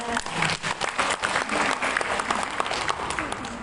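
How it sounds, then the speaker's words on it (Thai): Applause from an audience at a vocational college in Pa Sang, Lamphun, greeting a hotel-department student storyteller about to tell a folk tale; dense steady clapping over 3.7 s with faint voices underneath. "ขอเสียงปรบมือค่ะ"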